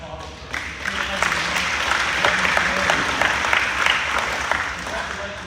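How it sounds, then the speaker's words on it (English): An audience at an agricultural hall of fame ceremony in Jackson County applauds steadily, dense clapping that holds for several seconds at an even level with no clear voices on top. "Let's give him a round of applause."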